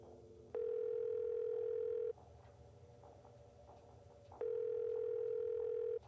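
A phone dial tone in the Nancy Drew game White Wolf of Icicle Creek, placed while calling the Avalanche Patrol, sounds as two long, steady, loud hums separated by a quieter pause of soft background ambience.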